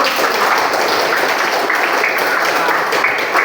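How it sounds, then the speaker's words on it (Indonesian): Children in a multigrade primary classroom clap their hands together on the teacher's cue, a loud, dense burst of clapping filling the room with little else over it. "Oke, kasih tepuk tangan."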